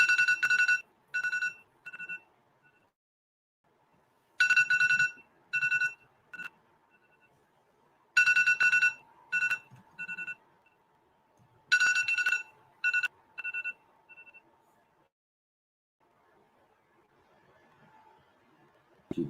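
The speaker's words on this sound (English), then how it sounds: "Timer." An electronic timer alarm sounds in bursts of rapid high-pitched beeping separated by pauses of silence, repeating four times, fairly close and without talk.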